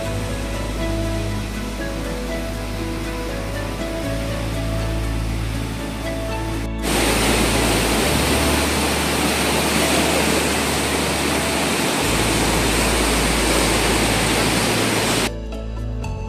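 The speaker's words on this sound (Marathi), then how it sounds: "तेथून येणारा पाण्याचा आवाज," Loud, steady rushing water at Huka Falls, Taupo, New Zealand fills the scene, a broad roaring wash that surges in partway through and holds continuously before dropping off near the end.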